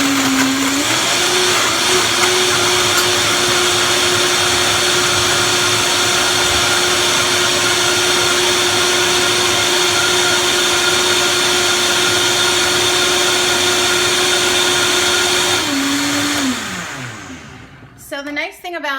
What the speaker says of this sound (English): So the nice thing about a Vitamix, and you don't have to get a Vitamix, of course, any blender will do